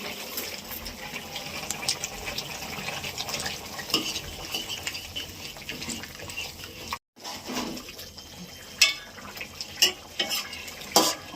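Cumin and chili paste fries in a fish and spinach curry with Indian spinach and local khoira fish, a continuous bubbling sizzle overlaid with clinking spoon and pot scrapes.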